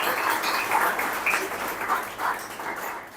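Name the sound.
applause from the audience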